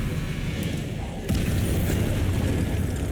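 A spell cast in Hogwarts Legacy lands as a deep boom about a second in, swelling into a loud, sustained rumble over the game's ambient background.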